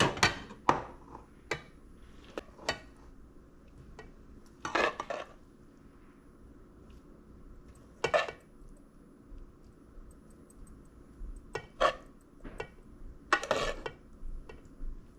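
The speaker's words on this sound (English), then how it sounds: "I'm using the slotted spoon so I have all that butter." A slotted spoon knocks and scrapes against a pan while shepherd's pie vegetables and butter are stirred. Sharp metallic clacks come at irregular intervals, some spaced seconds apart, over a quiet low rumble, with no talking.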